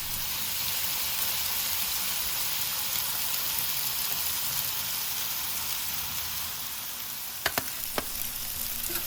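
Bite-sized steak cubes sizzle steadily on a hibachi griddle in a loud, even frying hiss, with a few sharp clicks of a utensil near the end.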